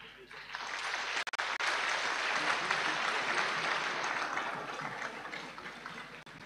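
A congregation at a Catholic diaconate ordination in Accra claps steadily for several seconds, a broad even wash of applause that swells and then slowly tapers off.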